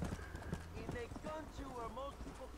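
Horse hooves clip-clop steadily in Red Dead Redemption, with a whinny breaking through as a player talks over the game sounds.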